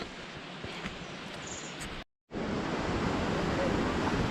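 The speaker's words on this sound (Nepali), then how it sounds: "हामी चाहिँ अब यहाँ खोला आइपुगिसकेको छ" A jungle stream rushes in a steady broadband roar, with brief faint chirps early on and a short silent cut partway through.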